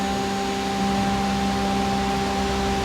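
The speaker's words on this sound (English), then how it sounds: "There's a little bit of a hum of the motor" The fan motor of a Smittybilt Overlander roof top tent gives off a steady, faint hum with a constant whirring drone and no change throughout.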